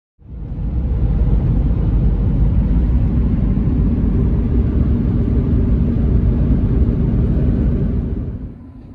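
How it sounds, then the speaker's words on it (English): A Jeep CRD diesel towing a loaded trailer on the road produces a loud, steady low rumble that holds evenly for several seconds before easing off at the end. "I got the trailer loaded up behind the Jeep, and I'm getting ready to head out."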